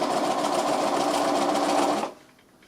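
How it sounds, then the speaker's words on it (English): A sewing machine runs steadily for about two seconds, sewing a back stitch through felt and fabric, then stops abruptly, loud and close. "I'm just going to secure it with a back stitch at this end."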